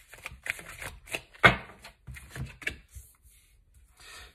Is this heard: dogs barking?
no